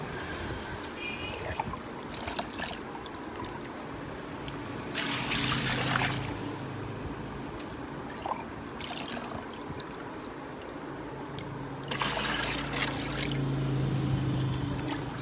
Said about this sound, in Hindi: जितना हमने बनाना है उतना हम सेंटर वाली बाल्टी में डाल लेंगे।